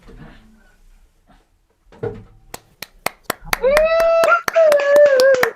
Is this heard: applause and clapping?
yes